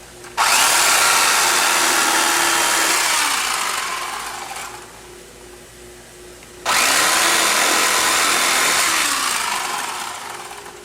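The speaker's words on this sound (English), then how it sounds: "Something as simple as an electric carving knife." An electric carving knife trims seat foam during a Sumo-X Fury install, a loud close buzzing whine running in two long passes that fade as it slows, with a brief quieter pause between them.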